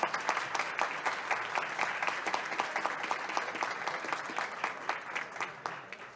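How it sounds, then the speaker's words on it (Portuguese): A room of attendees at a moot court final claps together, with individual hand claps in a fairly regular, rhythmic pattern, moderately distant and steady throughout. "Peço a todos os presentes uma salva de palmas."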